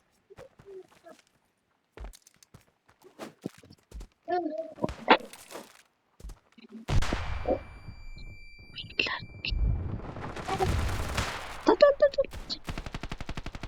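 Bursts of rapid video game gunfire with sharp crackling shots, alternating with quieter stretches and faint murmured voices; the firing grows dense and loud toward the end.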